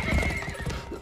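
Hooves pound in a quick, steady clip-clop rhythm, loud and close, with a horse's whinny rising over them.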